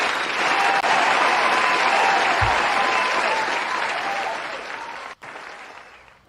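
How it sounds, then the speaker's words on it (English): Audience applause fills the space, dense and steady clapping heard up close that holds for several seconds before tapering off toward the end. "Double applause"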